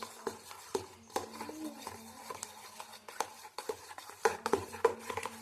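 Carrot juice mixed with milk and sugar is stirred, a spoon clinking and scraping softly against the vessel in quiet, irregular taps.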